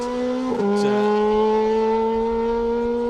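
A Vauxhall Adam rally car sweeps past on a rally stage of the Isle of Man's Manx Rally, its engine holding a loud, steady high-revving drone with a brief pitch dip as it goes by.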